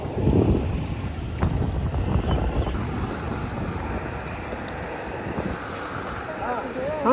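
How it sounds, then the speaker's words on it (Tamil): A boat motors through flood water in the UAE, with low engine and water rumble and wind buffeting the microphone while people talk over it. "நாங்கள் 2 பேரும் போட்டில் போய்கிட்டு இருக்கோம்"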